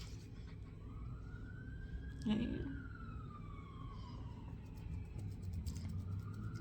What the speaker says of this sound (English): I hear sirens. It's distracting me.